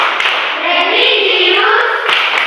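Children in a classroom chanting together in unison, with a few sharp hand claps breaking through the sustained group voices at irregular points across a short stretch.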